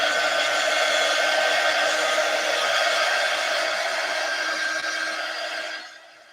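A hair dryer blows steadily at close range while drying chalk paste on a wall hanging, a constant loud whooshing hum that winds down and cuts off near the end.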